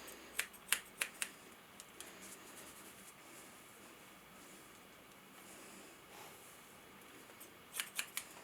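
Scissors point-cut the ends of hair during a home haircut, giving quick bursts of crisp snips at the start and again at the end, with a quiet stretch between and no talking.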